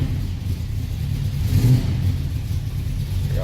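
A 1972 Chevrolet Nova with a 383 V8 rumbles close and loud, swelling briefly in a short rev before falling back to a steady low idle, with no talking.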